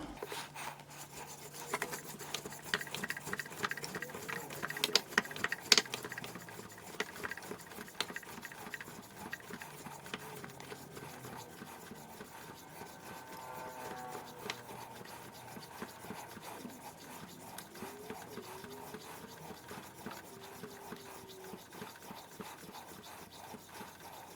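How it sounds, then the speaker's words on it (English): A Dalstrong Night Shark 6-inch boning knife blade is swiped repeatedly across a cutting board, giving soft continuous scraping and rubbing strokes, quiet and close, without talk. "Okay, that's 100 swipes on our cutting board"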